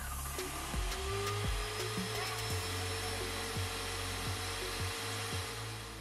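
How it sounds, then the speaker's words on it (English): A steady mechanical whine and hum with irregular low thumps and sputters from a malfunctioning Graco paint sprayer struggling, continuous and fairly close. "that caused the sprayer to make that sound"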